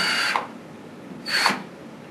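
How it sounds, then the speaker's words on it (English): Two short bursts of a power drill whirring and grinding through the metal armor of a HYBRIFLEX cable, separated by a pause, close and fairly loud. "start cutting through the armor with the drill"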